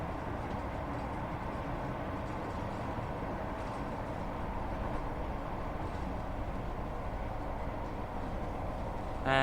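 A ScotRail Class 158 Sprinter train runs in a train simulator game on the Fife Circle Line, giving a steady, even rumble of engine and rolling wheels that holds at a constant level with no talking.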